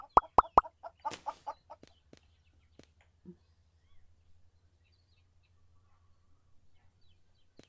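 A chicken in the Farming Supermarket Simulator video game gives a quick series of sharp clucks and a short squawk at the start, then only faint scattered sounds over a low hum.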